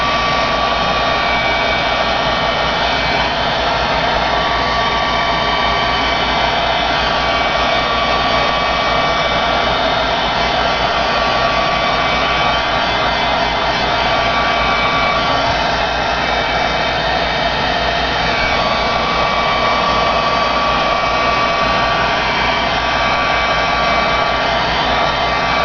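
A hair dryer blows steadily on the back of a sheet of inked paper for a weathered copper faux finish, a loud continuous whooshing hum that holds without a break from start to finish.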